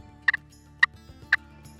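Three short, sharp clucks from a turkey slate call, evenly spaced and fairly close, with a low steady hum underneath.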